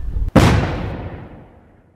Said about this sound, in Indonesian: Beberapa saat kemudian, bomnya pun meledak.